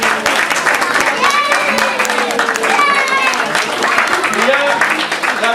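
Audience applause at an event in Alboraia, a dense steady clapping from a crowd lasting throughout, with voices and chatter mixed in underneath.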